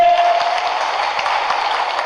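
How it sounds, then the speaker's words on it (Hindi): A crowd claps loudly for Olympic athletes at a public event, a dense continuous wash of applause that holds steady throughout. "ओलंपिक के लिए जोरदार ताली बजाओ"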